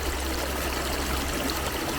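Pressurised water jets from a fountain kinetic sculpture, which holds a large ball aloft on the flow, give a loud, steady rushing splash close by, with no talk over it.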